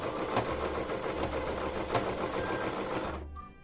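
Up close, a sewing machine stitches broderie anglaise trim onto a cloth diaper, giving a steady rapid mechanical whir with faint periodic thumps. The whir runs continuously, then stops abruptly near the end. No one speaks.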